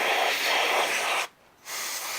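Aerosol spray hisses steadily onto a klipspringer skull mold during rotational casting, a broad continuous hiss that breaks off briefly near the middle before resuming just as loud.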